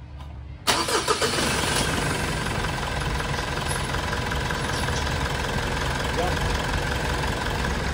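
A Mitsubishi Montero's 4N15 diesel, just fitted with a new fuel filter, cranks once and catches sharply, then settles into a steady, close, loud clattering idle that runs to the end.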